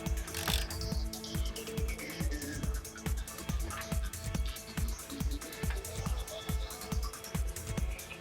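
A size 19 wrench ratchets steadily while tightening screws during assembly of a TW X-31 tyre changer from Twin Busch, a rapid, regular clicking that repeats through the whole stretch, close and without talk.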